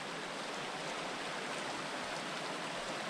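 Steady broadband rush of a stream flowing beneath a small bridge in Fuente Canyon, a continuous even wash of water with no talk over it.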